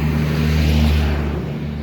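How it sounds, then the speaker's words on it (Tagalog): A vehicle passing along a rural provincial road, a steady close engine drone with low hum and broadband road noise that holds loud, then eases slightly toward the end. "yung sasakyan na dumadaan"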